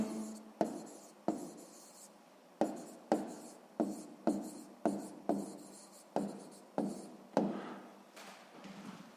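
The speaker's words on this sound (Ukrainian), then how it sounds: "Записуємо відповідь." A pen scratches across paper in a run of short, distinct handwritten strokes, each starting sharply and trailing off, as a maths answer is written down, close and quiet.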